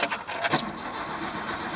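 Keys jangle close by, followed by a 1989 Holden Nova's starter cranking in a brief burst, then a steady whir as the engine tries to catch.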